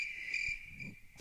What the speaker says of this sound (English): I got to turn the crickets off.